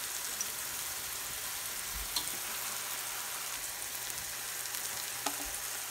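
Soy sauce and chilli sauce hit a hot frying pan for Gobi Manchurian, giving a steady, even sizzle that holds throughout with a few faint stirring clicks and no talk.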